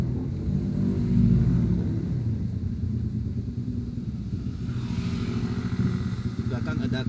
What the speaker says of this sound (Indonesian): Di belakang ada knalpot belum berisik.